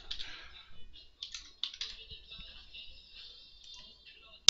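Someone types a username and password on a computer keyboard: quick bursts of light clicking keystrokes with brief pauses, close and fairly soft, with no other sound.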